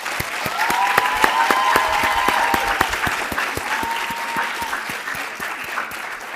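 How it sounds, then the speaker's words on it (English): An audience at a college public speaking competition gives a sustained round of applause for the judging panel, steady dense clapping at even loudness throughout with faint voices underneath. "let's give a big round of applause to our distinguished panel of judges"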